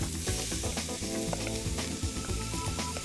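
Steady loud sizzling of coarsely grated courgettes frying in a hot pan with olive oil, a dense continuous crackle with occasional clinks.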